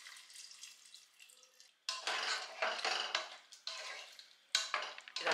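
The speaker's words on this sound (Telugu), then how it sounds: "ఈ రసం ఇందులో యాడ్ చేసుకుందాము." Tamarind juice is poured into a pot of sambar with a soft, splashing trickle, broken up by clinks of a vessel and spoon, fairly quiet and close, with no talking.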